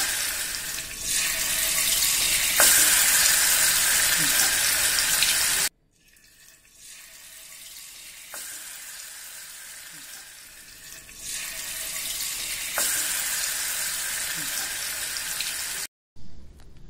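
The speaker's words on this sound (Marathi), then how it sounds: "कढईत तेल घालू आणि त्यात मॅरिनेट केलेलं चिकन ठेवू" Marinated chicken for tandoori goes into hot oil in a kadai, a loud broadband sizzle that swells and fades across the clip, cut by a brief silent gap, with faint clatter underneath.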